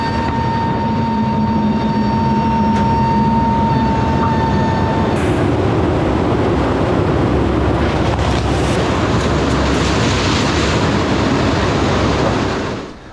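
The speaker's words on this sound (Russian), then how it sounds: "Ценные грузы сбрасывают военно-транспортные самолеты с высоты нескольких тысяч метров" Military transport planes flying high overhead while dropping humanitarian aid cargo by air over the Gaza Strip, a steady loud roar of engines and rushing air that fills the whole stretch and swells in the second half.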